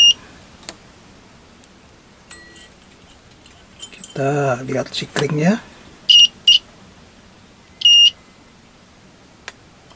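Multimeter continuity buzzer set up to test the thermal fuse of a household electric iron that won't heat, giving a few short, sharp beeps around a middle burst of sound, with someone talking nearby.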